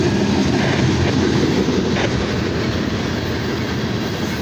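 A loaded southbound BNSF coal train, locomotive 5901, rolls past steadily, with a continuous loud rumble and a rhythmic clatter of wagon wheels over the rails throughout, no voices.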